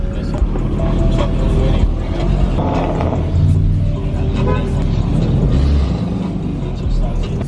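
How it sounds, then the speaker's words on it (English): Loud sports cars, a BMW M4, Audi RS5 and Porsche 911, in India, rumbling and revving with a dense, continuous low engine roar that stays strong throughout, with voices faintly mixed in. "These are all mad loud cars"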